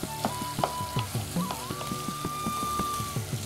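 Kohlrabi frying in a pan for a ghonto dish, a soft steady sizzle with rhythmic scraping stirs and a faint high whistle-like tone above, fairly quiet and close.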